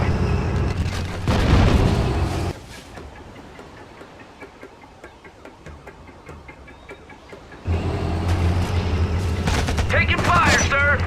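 Battle sounds from the real-time strategy game Act of War: bursts of gunfire and booming explosions, loud and dense at the start and end with a quieter stretch of rapid shots between, under brief in-game voice callouts.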